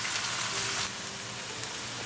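Onions frying in a pan on the stove, a steady close hiss and sizzle with faint crackles throughout, no talking.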